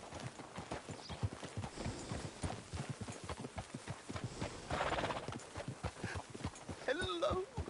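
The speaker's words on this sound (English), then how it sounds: "Get a hold of that horse," Horse hooves clip-clop steadily through most of the stretch in Red Dead Redemption 2, close and rhythmic, joined near the end by a short whinny over faint ambient game sound.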